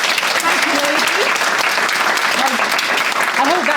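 Audience at a book launch panel discussion applauding the panel, loud continuous clapping with voices audible underneath.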